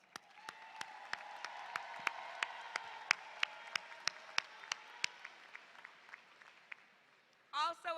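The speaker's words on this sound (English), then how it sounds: "please join me in giving our graduates a well-deserved round of applause" Scattered applause for graduates at a Texas Southern University spring commencement ceremony: sparse, distant individual claps rising and thinning over several seconds, faint in a large space, with a brief voice at the end.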